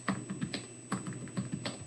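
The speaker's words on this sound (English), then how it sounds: "my typing is just getting worse" Rapid bursts of typing on a computer keyboard, close and fairly quiet, with irregular clusters of key clicks and no voice.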